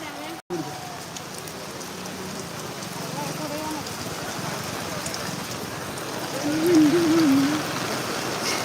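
Steady rain patters on surfaces in a continuous wash at an outdoor boat race in Alappuzha, with a faint voice murmuring now and then beneath it.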